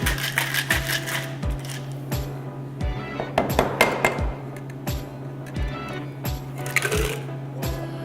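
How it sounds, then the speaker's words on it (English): A cocktail shaker filled with ice, lime, mint and raspberries is shaken hard at a cafe, giving a rapid, steady rhythm of icy rattles and clinks that continues throughout. "And just when you think you're done, shake it one more time."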